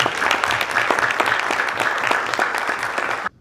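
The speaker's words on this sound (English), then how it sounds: "let's give another round of applause for our creators" A festival audience at a creators' Q&A gives a dense, steady round of applause that runs strong and even for about three seconds before cutting off abruptly.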